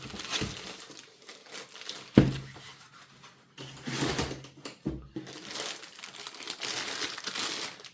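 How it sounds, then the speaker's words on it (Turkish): Protective plastic wrapping comes off a Lenovo LOQ 15ARP9 gaming laptop with close, soft crinkling and rustling in irregular bursts, including one sharp knock early on. "Hemen bu koruyucuları da bilgisayardan çıkaralım."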